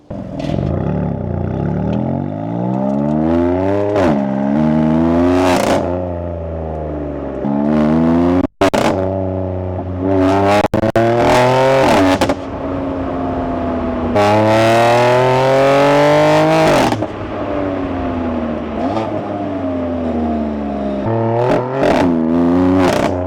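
High-mileage BMW M4 engine revving hard and pulling through repeated accelerations, pitch climbing and dropping as it shifts. Loud and close, with short breaks between pulls and no talking.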